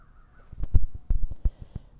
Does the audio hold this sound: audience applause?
no